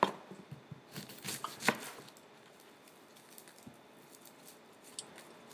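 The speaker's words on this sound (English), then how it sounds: "here I'm cutting an onion" Knife chopping an onion for a spicy Asian noodle soup, a quick cluster of close, crisp cuts early on, then quieter scattered taps against a low background.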